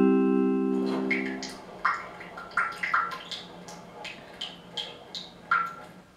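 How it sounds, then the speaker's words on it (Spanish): Drips from a household leak fall one after another in a loose rhythm, each a short watery plink, close and fairly quiet, after a brief steady tone at the start. "Así suena una gotera"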